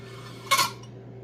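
A valve on a Farmall 450 tractor engine is lapped against its seat during a valve job, giving one brief, bright metallic clatter up close over a faint steady hum.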